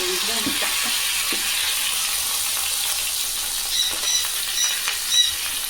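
Steady sizzling and crackling of rohu fish pieces for fish tandoori frying in hot oil on a flat tawa, close up, with faint clinks early on.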